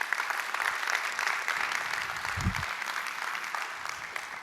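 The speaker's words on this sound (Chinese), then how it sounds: "先给 VV 一个掌声哦" Audience applause at a company business seminar on stage, a steady, dense clatter of clapping that holds for several seconds, with one brief low thump near the middle.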